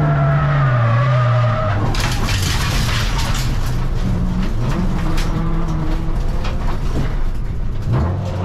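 A race car at an enduro event spins out, tires skidding and squealing in long sliding screeches over a loud engine roar, with other cars droning around it.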